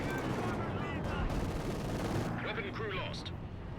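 Machine gun fire in the Company of Heroes 2 strategy game, sustained rattling bursts mixed with heavy battle noise and distant blasts, loud and dense, with a commentator talking over it.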